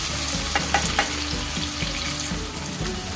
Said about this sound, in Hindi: ओनियन को भी हम अच्छे से फ्राई कर लेंगे एक दो मिनट तक